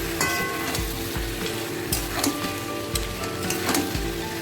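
Country chicken pieces fry in a spiced masala over a low gas flame, giving a steady close sizzle broken by regular scraping stirs across the pan, with no voices.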